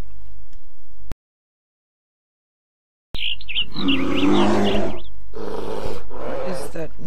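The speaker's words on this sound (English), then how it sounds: "What is that noise? No, please don't tell me. It's a bear!" A bear in a modded camping video game lets out deep, rough roaring growls after a sudden stretch of silence, loud and close, in two or three drawn-out bursts over a low background hum.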